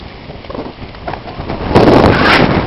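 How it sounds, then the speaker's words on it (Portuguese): Strong wind gusts across a campsite, buffeting the tents and hitting the microphone with heavy, rumbling noise. The roar swells and grows louder toward the end. "Rapaz, que vento!"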